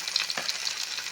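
Bird's eye chillies with ginger and green chillies spluttering in hot oil for a mango-type pickle, a dense close sizzle with a few sharp pops and crackles, no voices.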